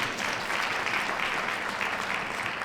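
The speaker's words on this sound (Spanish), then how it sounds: "Importante, un aplauso por favor también." An audience at a women's forum applauds in a dense, steady wash of clapping that runs evenly throughout, filling the room without talk.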